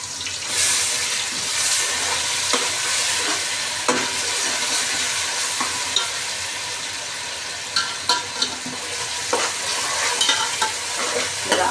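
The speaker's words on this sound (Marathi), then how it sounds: "जरा आलं लसूण चांगलं परतून घ्यायचं." Ginger and garlic sauté in oil over a full flame for a dry goat mutton dish, giving a steady close sizzle broken by scraping stirs, with no talking.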